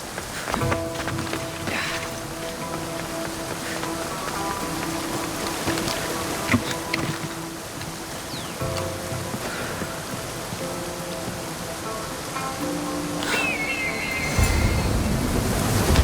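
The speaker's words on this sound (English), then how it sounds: "This is the waterfall." Steady roar of falling water from a waterfall in Assassin's Creed Odyssey, a broad continuous wash like heavy rain and surf, with faint tonal game music underneath and a brief swell near the end.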